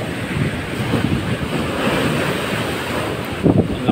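Flood waves crash against the seawall along Banton Boulevard, making a continuous rushing surge mixed with heavy wind buffeting the microphone and a louder splash near the end.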